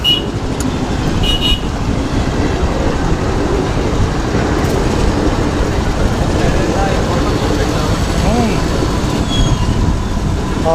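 Loud, continuous rumble and rattle of a train from Vemuru passing close by, steady throughout with no break.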